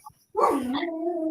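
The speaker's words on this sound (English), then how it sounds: "my dog is here yelling at me" A dog gives one loud, drawn-out whining bark-howl at close range, a complaint directed at its owner, rising and then holding for about a second after a brief quiet start.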